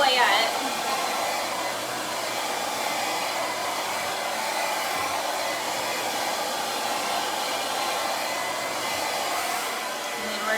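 A hair dryer blows steadily on hair for the whole stretch, a constant close whooshing hum with slight shifts as it is moved around, with no one talking.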